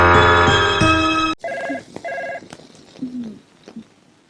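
A telephone ringtone sounds as two short electronic beeping bursts, following a brief stretch of music and then fading to quiet room noise.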